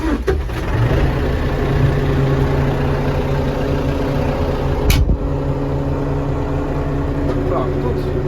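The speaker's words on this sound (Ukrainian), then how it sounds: "Так, заводимо, запалення, передача нейтральна, шилка вимкнена. Заводимо." A Lovol 1054 tractor engine chugs at a steady, close idle with a dense low rumble and a sharp knock partway through, while someone talks.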